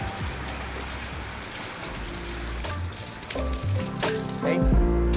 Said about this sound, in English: It's very deep rain.